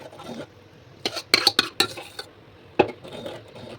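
A spoon stirs mashed lentils into a pot of simmering Telugu pappu charu, giving scraping swishes and a few sharp metallic clinks against the pot, close and alone.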